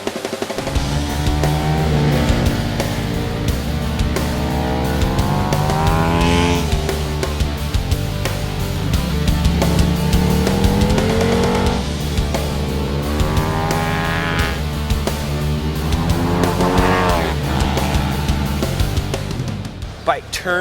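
A high-revving KTM superbike engine with an Akrapovic race exhaust screams through gear changes on a track, pitch rising and falling continuously as it races along, with a voice talking over it.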